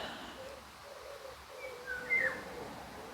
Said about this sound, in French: Le roucoulement du pigeon.